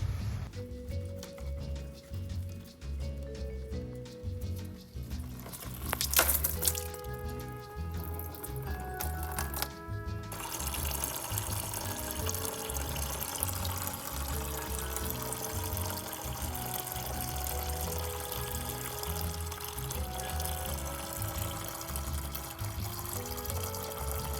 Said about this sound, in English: Okay, so now we are going to open up the drain cock here. Just gonna use a Phillips screwdriver, open that up, and drain the coolant.